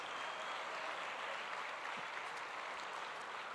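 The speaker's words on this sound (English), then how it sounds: "Please give them another big round of applause" A graduation ceremony audience gives musicians a faint, steady wash of applause, many hands clapping at a distance, a continuous hiss-like patter with no speech over it.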